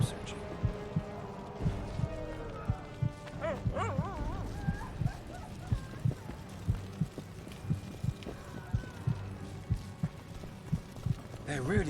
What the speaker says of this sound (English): The heartbeat is really loud.